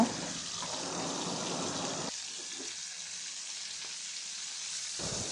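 Fish frying in a pan as the pieces are flipped to the other side, giving a steady, close sizzle that drops sharply midway and surges back loud near the end, with no talking.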